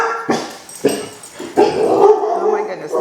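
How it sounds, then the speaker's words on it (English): Several dogs bark in short loud bursts, then a sustained stretch of overlapping barking and yelping, close by, over a quiet indoor drawing session. "the dogs are barking"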